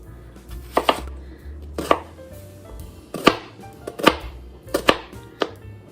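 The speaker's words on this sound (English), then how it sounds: "we're going to get some onion, and we're going to do the same with the onion" A knife chops onion on a cutting board for classic potato salad, about ten sharp close thuds in uneven bursts, with no talking.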